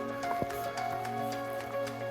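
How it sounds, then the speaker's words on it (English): Steady, soft rain patters on a surface in a cloud-covered forest on the Rogue River Trail, with a low constant hum beneath and scattered faint drips. "In other words, it's raining."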